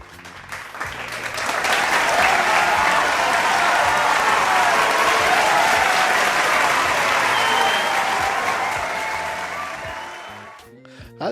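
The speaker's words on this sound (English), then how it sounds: "Let's give a round of applause." A studio audience gives a sustained round of applause to welcome the interview guest, Susan O'Hara, dense and steady for about nine seconds before fading out.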